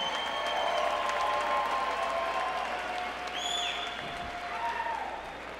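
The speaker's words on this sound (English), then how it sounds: "How about a nice round of applause for both fighters in tonight's main event?" At an MMA fight event, an arena crowd applauds both fighters after the main-event bantamweight title bout, sustained clapping mixed with whistles and cheers filling the hall.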